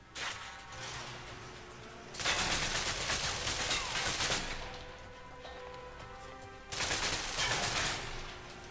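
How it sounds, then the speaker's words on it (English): Video game submachine gun fire in close-quarters combat, two loud sustained bursts of rapid shots separated by quieter stretches of lingering game noise. "If you're trapped in close quarters with multiple opponents, the SMGs can help clear the room quickly"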